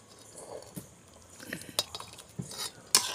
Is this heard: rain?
no